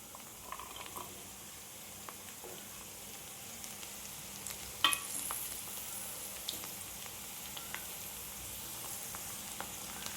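Small shallots and garlic cloves sauté with okra in a pan, giving a steady soft sizzle and crackle with occasional stirring clinks, close and fairly quiet with no voices.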